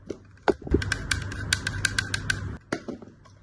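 Scroll wheel of a Rapoo M100 Silent computer mouse turning, giving a close, fairly quick run of about a dozen light, evenly spaced ratchet clicks.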